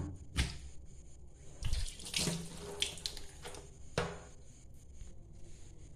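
Tap water running and splashing in a sink while cut stingray pieces are washed, with irregular bursts of splashing and clatter at moderate distance, no talking.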